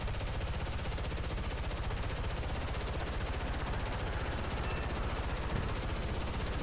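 Sustained aircraft machine-gun fire from a fighter pre-firing at a bomber in War Thunder, a dense, steady rapid rattle running without pause from start to finish, loud and close.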